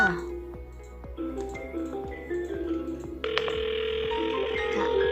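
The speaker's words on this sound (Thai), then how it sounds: "พนักงานทำการโอนสายนะคะด้วยการกดปุ่มคีย์แพดนะคะ ตามด้วยดอกจันสองค่ะ" Phone keypad tones as star and two are pressed to transfer a call on a business phone app, sounding as a few short beeps followed by a sustained tone.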